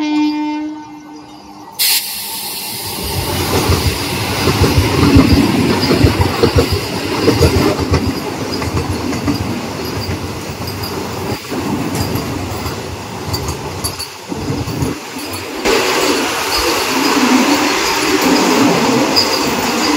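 A local train on the Kolkata to Kanyakumari route rumbles along loudly and close, with rhythmic wheel clatter and occasional squeals over the steady roar, and a horn sounds at the very start.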